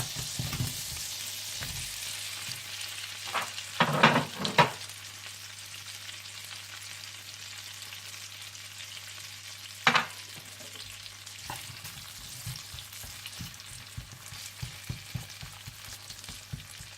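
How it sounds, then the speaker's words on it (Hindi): Potatoes frying in a pan for a Spanish omelette, a steady soft sizzle throughout with a few louder clattering stirs and scrapes, no voices. "फिर इसमें आलू डालकर पकाएं जब तक कि आलू अच्छी तरह से गल जाए और हल्के से ब्राउन होने लगे"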